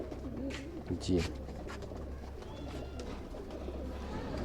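Small-bodied pigeons coo softly, a low gurgling murmur nearby, while someone speaks briefly over them.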